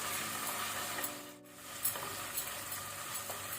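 Green chillies fry in hot ghee in a cooker for prawn biryani over a low flame, giving a steady close hiss and sizzle with a brief dip and occasional soft stirring scrapes.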